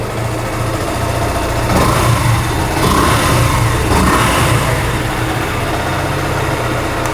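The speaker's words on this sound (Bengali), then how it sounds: "বাইকটা কিন্তু স্টার্ট করা হয়েছে আর সাউন্ডটা শুনতে পাচ্ছেন আপনারা আশা করি" A Yamaha FZ-S V2 Dark Knight motorcycle engine idles steadily up close, with a couple of short, mild revs rising above the even, continuous rumble.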